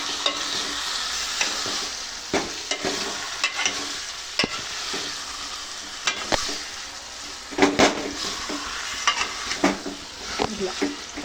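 Chicken curry stirred in a pan, with irregular scraping and clinking spoon strokes over a soft, steady sizzle, heard close up.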